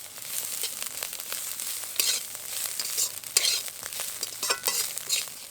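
Banana stem being stirred and fried in a pan with dry chilli and nigella seeds, a steady close sizzle broken by repeated scraping stirs, with no voices.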